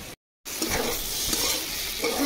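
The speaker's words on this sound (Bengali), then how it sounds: "এখন আলু ভাজা হয়ে গেছে" Potatoes sizzle as they fry in a pan while being stirred, with continuous close frying hiss and the scrape of the stirring after a brief moment of silence.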